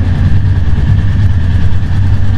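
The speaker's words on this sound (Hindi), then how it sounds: "ऑफ करना इंजन, ऑफ करना।" A Royal Enfield Meteor 350 motorcycle idles close by, a loud, steady low engine rumble with an even throb throughout and no talk.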